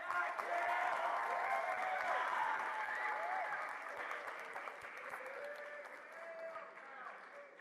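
Sustained crowd applause at a Dare To Be Youth charity community day honouring a youth tree planter, dense clapping that gradually softens, with scattered voices and faint cheers mixed in.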